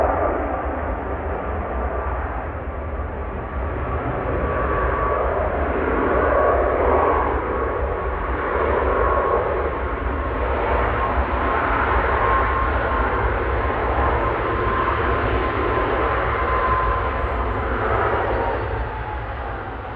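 Aircraft arriving from Vienna touching down at Manchester Airport, a sustained loud broadband engine roar that swells and holds across the whole stretch, with no voices.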